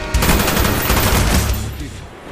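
Rapid automatic gunfire rattles in Call of Duty: Black Ops combat training against bots, a dense loud burst of shots that tapers off after about two seconds.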